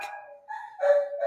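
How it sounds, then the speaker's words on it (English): Dogs bark indoors, a few short yelps and barks close by in quick succession, fairly soft, with no talking. "excuse my dogs."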